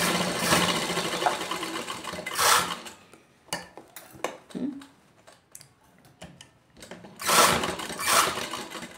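A sewing machine double-stitching the seams of a nightie runs in bursts of rapid mechanical whirring, loudest near the start and again toward the end, with quieter clicks and handling noises between runs.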